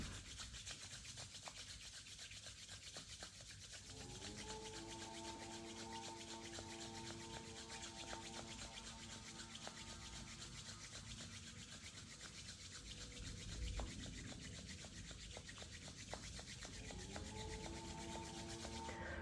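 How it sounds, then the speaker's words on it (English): Hands rub together during a yoga breathing exercise, making a continuous close, dry rubbing friction that carries through the whole stretch, with a faint steady tone underneath and no talking. "Rub your hand, hold your breath in."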